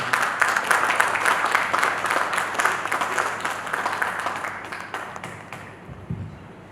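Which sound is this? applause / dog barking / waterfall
applause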